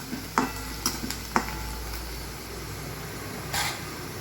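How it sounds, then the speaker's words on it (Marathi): Two large onions are sautéed in a kadhai, giving a soft steady sizzle with a few sharp taps of the spatula against the metal, fairly quiet and close. "कढईमध्ये 2 मोठ्या आकाराचे कांदे घेतलेले आहे आणि ते आपल्याला छान असे लालसर कलरवर परतून घ्यायचे आहे."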